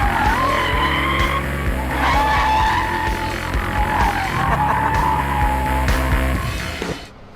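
A BMW M5 skids on a racetrack, its tires squealing in long wavering howls over a steady, loud engine roar that fades out at the end.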